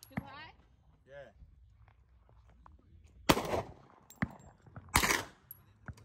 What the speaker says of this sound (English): shooting high, Nick.